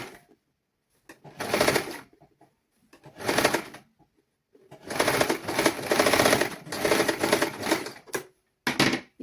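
Sewing machine stitching a 1 cm seam on children's clothing, heard in several separate loud bursts of rapid mechanical clatter with quiet pauses between runs.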